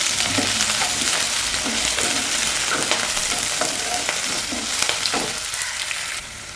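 Chopped onion and green chillies sizzle in hot oil with ginger and garlic, a steady close frying crackle with a few stirring scrapes throughout, quietening slightly at the very end.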